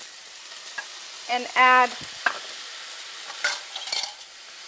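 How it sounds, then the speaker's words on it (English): Ginger sizzles and is stirred in a hot pan, a steady frying hiss with scraping spoon clicks, while someone speaks briefly over it. "Stir it for 30 seconds"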